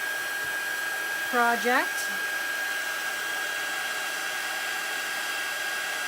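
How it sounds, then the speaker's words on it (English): Heat embossing tool blowing hot air in a craft setting, a loud, steady whooshing blower with a constant whine, briefly overlapped by a short spoken word. "You always want to heat your heat tool up first so that it has a chance to warm up"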